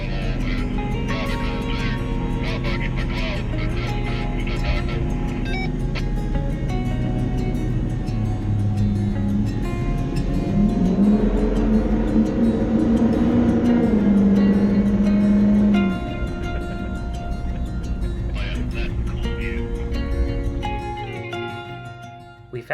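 A Ford F250 truck drives along a cloud-covered mountain road, its engine a steady, loud drone with road rumble. The pitch rises and holds midway, then eases off near the end.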